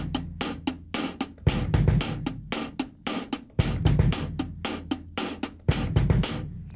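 A rock drum kit plays a steady, metronome-like stream of hi-hat strikes, with a heavier kick and crash landing only on beat one of each bar. The pattern repeats evenly and up close, with no voices.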